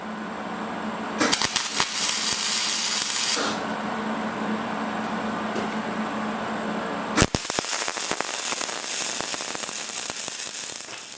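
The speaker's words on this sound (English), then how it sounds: "we're going to weld that into place" Welding a round piece onto an aluminum plate produces a close, crackling, sizzling hiss in two bursts, the first a couple of seconds long and the second longer with sharp popping spatter, separated by a quieter hum.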